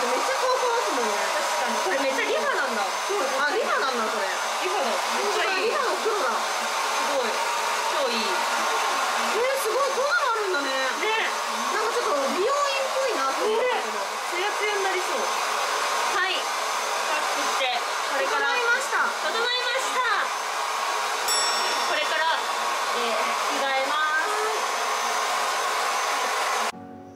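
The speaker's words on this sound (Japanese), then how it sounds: "でもやっぱりさ、髪の毛乾かすと。" A hair dryer blows steadily while drying hair in a private sauna room, a continuous airy whir that runs throughout, with women chatting over it.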